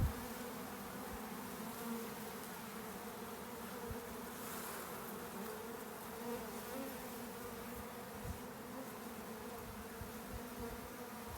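Honey bees from an established desert hive hum inside a hive box, a soft, even, continuous buzzing drone that stays low and steady throughout.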